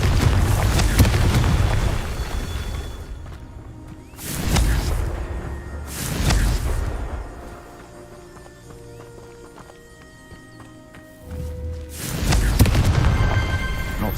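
Confringo fire-blast spell explosions in Hogwarts Legacy, four heavy booming bursts spaced a couple of seconds apart, each decaying into rumble, with quieter game ambience between them.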